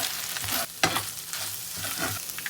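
Egg being stirred into a frying pan, a brief close sizzle with quick scraping stirs and one sharp clatter, no talking, while a midnight snack is cooked.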